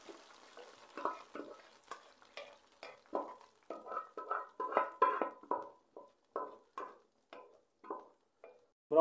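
Slow, rhythmic scraping strokes of stirring caramelized sugar in a pan for egg and semolina halwa, with a soft sticky sizzle between strokes and no voices.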